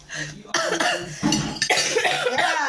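Several harsh coughs burst out in quick succession, loud and close, with a voice and background chatter mixed in.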